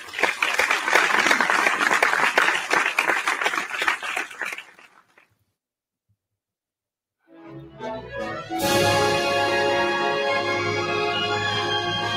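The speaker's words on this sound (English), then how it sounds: "Please give a round of applause for the ladies of the class of 2020." A crowd applauds steadily at a high school athletic awards ceremony, the clapping fading out into silence before music begins.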